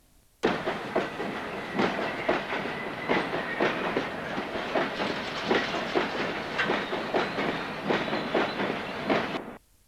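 Freight train rolling through the junction on the Harworth Colliery branch, a steady loud run of wheel clickety-clack with regular rail-joint beats and a hiss throughout, starting abruptly and holding close for about nine seconds.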